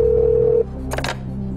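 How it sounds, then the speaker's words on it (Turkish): A telephone rings on a quiz-show set: a single steady electronic tone holds for about half a second and cuts off, followed by a brief burst of studio noise. "Evet efendim, telefon çalıyor."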